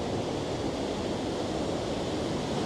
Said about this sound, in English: This is waterfall number 6.